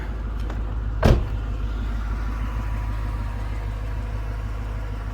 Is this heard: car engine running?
yes